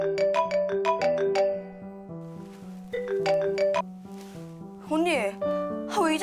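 A mobile phone rings with a bright melodic ringtone for an incoming call from a sister. The tune plays in repeated bursts, and a voice-like warbling sound enters near the end.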